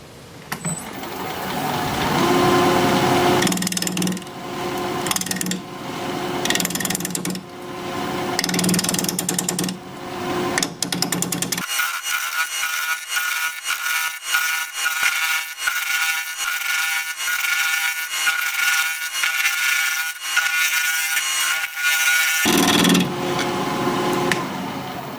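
A wood lathe spins at 1200 RPM while a 5/8 inch bowl gouge cuts scrap apple wood. The scraping and rubbing run continuously and close, with rough, uneven cutting bursts and brief lulls.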